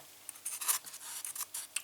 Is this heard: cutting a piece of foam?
yes